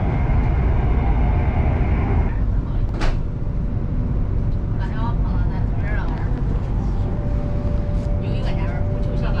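Inside a high-speed train in China cruising at about 200 km/h, a loud, steady rumble and whoosh continues while someone talks over it.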